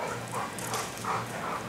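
Eight-week-old Border Collie puppies whimper and yip, a few short high whines close by, rising and falling over a quiet background.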